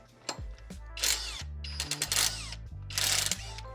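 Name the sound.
right angle impact driver removing 10mm bolts from fan pulley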